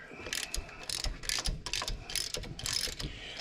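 A ratchet wrench works the nuts off the brake drum bolts of a 1963 Impala, its close, rapid metallic clicking coming in repeated bursts over a steady background with no talking.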